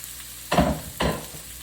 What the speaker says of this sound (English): now we're gonna add our vegetables